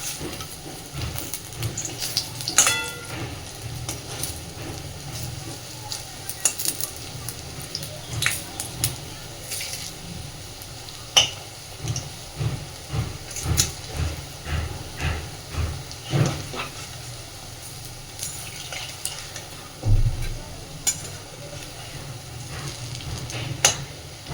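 Prawn fritters sizzle and spit in a frying pan after being turned, a steady close hiss broken by scattered pops and light scraping sounds, with no talking.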